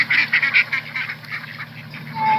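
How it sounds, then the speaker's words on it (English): Ducks quack from a played-back video in a quick run of close, nasal calls that thin out into scattered softer quacks over a low hum. "Then we got some duck food to feed the ducks."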